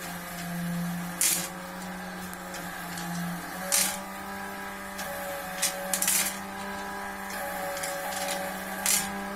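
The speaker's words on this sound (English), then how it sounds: "The drum is rotating at 25 RPM" A friability tester drum turning at 25 RPM with paracetamol tablets gives a steady mechanical motor hum, with tablets sliding and dropping inside in short, regular bursts of rattling clatter every couple of seconds, alone and close.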